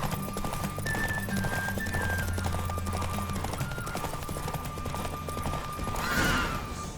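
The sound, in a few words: horse galloping in a race, video game The Witcher 3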